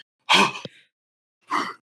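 A person imitates the sudden gasp of a man being stabbed: a sharp, breathy rush of air, a brief pause, then a second shorter exhaled gasp.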